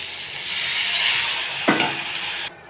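Prawns sizzle in hot oil for a Bengali prawn curry, a steady broad hiss close by, with a brief clatter midway before the sound cuts off abruptly.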